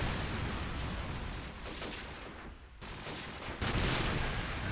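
Gunfire in a Counter-Strike match on the backlot map: dense, steady bursts of rifle shots over a busy game soundscape, with a brief lull partway through before the firing resumes.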